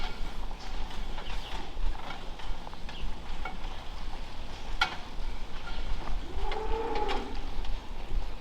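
High-production third-lactation-plus dairy cows eat at a barn feed bunk, with steady shuffling, chewing and rustling of mixed feed, a sharp clank midway and a low moo-like call near the end.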